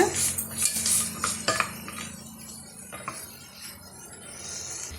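A utensil stirs crab with masala in a pot, making a run of close metallic scrapes and clinks that fade to quieter, sparser knocks.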